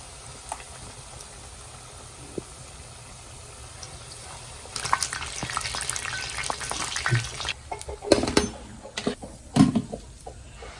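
Banana fritters dipped in batter frying in a pan of hot oil, a steady low sizzle that swells into louder crackling bursts as pieces drop in, with clinks of utensils near the end.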